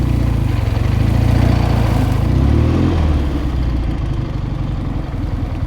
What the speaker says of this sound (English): Very smooth running engine.